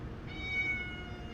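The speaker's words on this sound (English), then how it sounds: "My cat has come to join the stream." A house cat meows once, a thin drawn-out cry near the microphone over a low steady background hum, alone with no talking.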